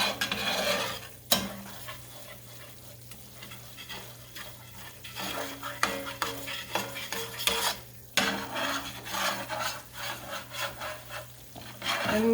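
A spatula scrapes and stirs across a hot cast iron pan as chicken browns in fat, giving repeated close rasping strokes over a low steady sizzle.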